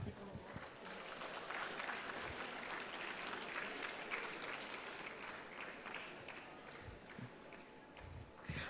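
Steady applause from a large audience, continuous clapping filling the room for several seconds at an even level.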